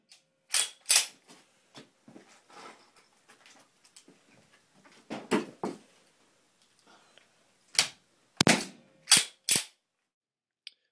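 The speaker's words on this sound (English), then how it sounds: "I also used a ramset gun to secure them even further." Ramset powder-actuated nail gun driving nails into a concrete floor, several loud sharp bangs scattered unevenly with quieter handling clicks and knocks between them, close by.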